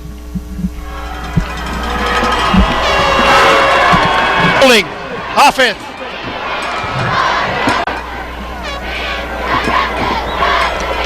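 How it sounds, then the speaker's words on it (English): A Canutillo high school football crowd cheers and yells throughout, a loud sustained roar with sharp shouts rising above it, while an announcer talks over the noise. "They've been on their feet, on their toes, cheering on their team."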